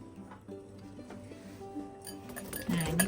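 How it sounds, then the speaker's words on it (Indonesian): A spoon stirs a Dijon mustard sauce for eggs Benedict in a bowl, giving faint clinks and scrapes that grow busier toward the end over a low background hum, close and quiet. "aduk sampai dia rata."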